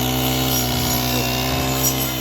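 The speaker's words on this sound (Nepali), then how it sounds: "यस्तो दामी घाँसहरू यस्तो मेसिनले काट्नुहुन्छ है" A grass-cutting machine works through grass in Mustang, Nepal, giving a loud, steady motor drone with a constant whirring hum that runs unbroken for the whole stretch, close by.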